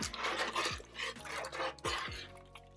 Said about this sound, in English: Spoon. Stir it up.